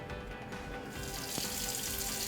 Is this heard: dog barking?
no